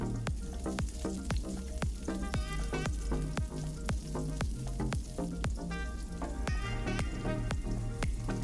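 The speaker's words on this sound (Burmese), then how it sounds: "ပြီးရင်ဒီမှာအသီးရွက်လေးတစ်ခါကြော်မယ် အဲ့ဒါကြတော့စီနည်းနည်းထည့်ပါမယ်နော်" Vegetables and red onions frying in hot oil in a pan for mutton pasta, a steady loud sizzle running throughout with repeated sharp clicks of stirring and tossing on top.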